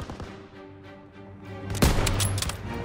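Machine gun fire in the Call of Duty: WWII Stronghold battle: rapid bursts and loud booming shots that swell in the second half over a low rumbling war backdrop.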